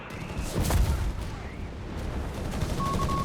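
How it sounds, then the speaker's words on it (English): Mortar shells striking an infantry unit in Company of Heroes 3, a muffled blast and scattered battlefield gunfire rolling on at moderate loudness beneath a steady wash of game noise. "MD-34 is getting hit there by Oziligath's mortar."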